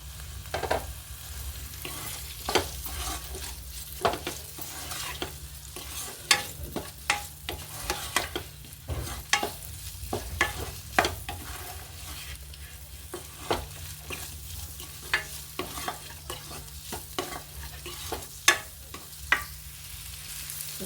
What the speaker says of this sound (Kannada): ಬಾಣಲಿಗೆ ಸ್ವಲ್ಪ ಪನ್ನೀರ್ನೆಲ್ಲ ಫ್ರೈ ಮಾಡ್ಕೋತೀನಿ.